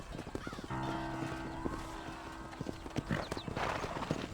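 Horse hooves clip-clop in a steady rhythm, fairly close, over a low droning background, in the video game Red Dead Redemption.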